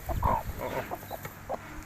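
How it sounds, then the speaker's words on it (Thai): Farm chickens kept by a household cluck in short, uneven bursts at close range, with soft background noise around them and no voices in between. "นี่คือไก่เลี้ยงไก่"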